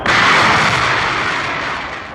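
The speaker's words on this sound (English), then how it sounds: "The escape rocket takes the capsule away from the booster." A Mercury capsule's escape rocket fires to pull the capsule off its Atlas booster, a loud, continuous roaring blast that holds steady for a couple of seconds and then eases slightly toward the end.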